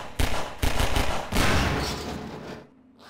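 Gunfire in Half-Life 2, with several sharp, close shots in quick succession followed by a rolling blast that decays into quiet.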